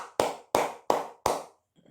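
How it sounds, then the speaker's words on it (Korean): Four sharp, evenly spaced hand claps ring out close and loud, each with a brief decay, followed by a faint soft rustle. "다시 한번 박수 한번 치고 가도록 하겠습니다"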